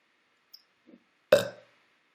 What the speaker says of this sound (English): He's always burping.